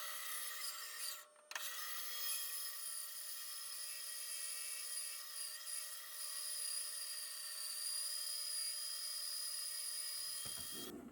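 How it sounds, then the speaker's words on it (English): Bandsaw cutting wood for an epoxy bowl, a steady high, tonal whine that runs almost the whole time, with one brief dip early on before it cuts off near the end. "that's what we're going to cut on the bandsaw now"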